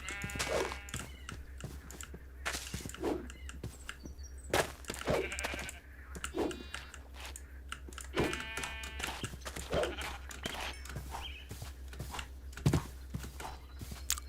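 Sheep in the survival game TerraFirmaCraft bleat several times at irregular intervals, moderately near and alone over a low steady hum.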